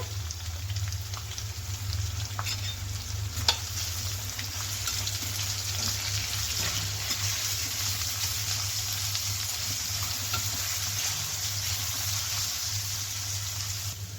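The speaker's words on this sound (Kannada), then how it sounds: "ಅದನ್ನು ಸೇರಿಸ್ಕೊಂಡು ಈರುಳ್ಳಿ ಚೆನ್ನಾಗಿ ಮೆತ್ತಗಾಗೋವರೆಗೂ, ಅಂದರೆ ಟ್ರಾನ್ಸ್ಪರೆಂಟ್ ಆಗೋವರೆಗೂ ಹುರ್ಕೋಬೇಕಾಗತ್ತೆ" Sliced onions fry in a pan until soft and transparent, a steady close sizzle that runs without a break under a low constant hum.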